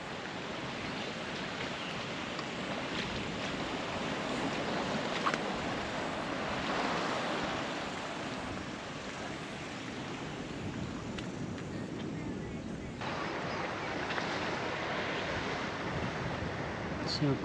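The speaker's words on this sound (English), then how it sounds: "Oh, the swell coming in, that's cool." Ocean swell washes into an island lagoon in the Bay of Islands at Motuarohia Island, a steady broad roar of surf and moving water with wind buffeting the microphone throughout.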